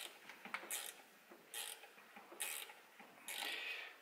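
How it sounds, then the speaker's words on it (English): A ratchet wrench clicks in short bursts of rapid ticks, several separate strokes close to the microphone, while undoing the reed block on a Lambretta TS1 230 cc engine rebuild. "let's get a ratchet"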